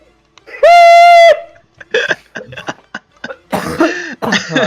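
A person coughs loudly several times in quick bursts, close up, with laughter and talk from others following right after.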